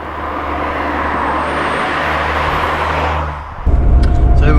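A Ford Sierra Cosworth, a barn find just back on the road, idles with a low rumble that swells as it pulls away. An abrupt cut then leaves closer, rougher low-end noise, as if from inside the car.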